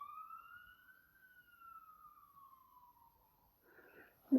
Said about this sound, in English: You guys must hear that siren.